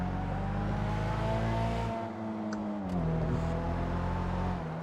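Annis Remus, a rear-wheel-drive tuner car with a dual overhead cam inline-4 engine in GTA 5 (modeled on the Nissan Silvia S13), holding a steady loud engine drone that dips briefly then rises again in pitch.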